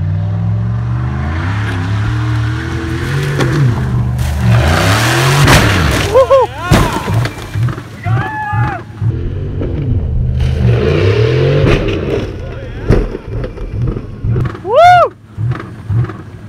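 A Dodge Durango engine roars and revs with the accelerator held down, loud and close with rising and falling pitch sweeps, then sharp squealing tones and bursts later on as the engine keeps straining.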